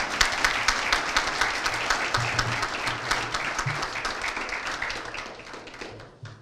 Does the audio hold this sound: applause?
yes